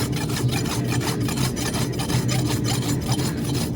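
A farrier rasps a horse's hoof, a close, rhythmic scraping of quick back-and-forth strokes, about three per second, steady and continuous with no voices.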